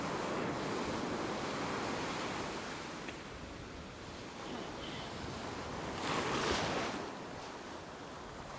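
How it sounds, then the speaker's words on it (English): Ocean waves break steadily on a beach in a northeast wind, a broad continuous roar of surf with a louder surge near the end and wind rumble on the microphone. "all of the water from the waves breaking."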